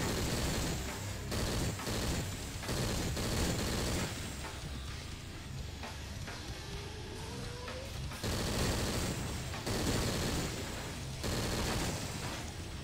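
An XMV 850 minigun fires in the Killing Floor video game with sustained, rapid automatic bursts. The roaring fire stops and restarts several times and is loud throughout.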